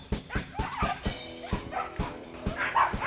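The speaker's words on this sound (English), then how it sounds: "On my left are some of the exercise areas for the standard poodles." Standard poodles at an outdoor kennel exercise area bark and yip in a rapid, repeated series of sharp woofs at moderate distance, with a few higher whimpering tones mixed in.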